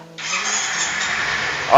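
A used 2013 motorcycle with about 27,000 km on it starts up, and its engine settles into a steady, smooth idle. The engine sounds close and fairly loud, with a brief sharp burst at the very end.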